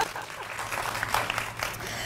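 Brief, fairly faint clapping from a small panel audience at a women's tech bootcamp event, a short scattered patter of hands over a low room hum.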